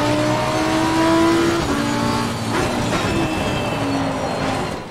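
A Lamborghini race car engine in the racing game AC Competizione, sliding on a wet track in an online race, gives a loud, continuous droning engine note with shifting pitch throughout.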